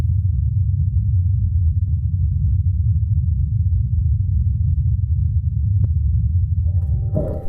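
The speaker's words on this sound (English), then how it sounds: "And this is a recording of the Ingenuity helicopter in flight." Ingenuity helicopter in flight on Mars, heard as a constant, muffled low drone of spinning rotors that holds steady throughout, with a faint higher whine near the end.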